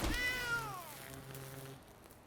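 A cat indoors gives one drawn-out, close meow that bends downward in pitch, with quiet room tone afterward.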